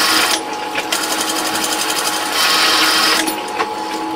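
A sewing machine runs a continuous stitch through puppet head fabric, a loud, close, steady mechanical whir and rapid needle clatter lasting the whole stretch, with slight changes in pace and no talking.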